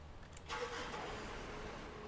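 A forklift engine starts in the video game Beer Factory Prologue. A quiet, short start-up is followed by a steady low idle hum.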